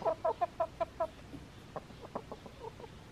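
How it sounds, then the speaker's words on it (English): Hens cluck in a quick rhythmic series of six calls, followed by softer, scattered clucks, close by and without talking. "chick, chick, chick, chickens, they are excited because they know that I am bringing them a treat"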